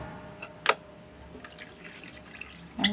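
Water poured into a bath for pet parrots, a few soft drips and splashes, one at the start and another near the end, over a quiet room.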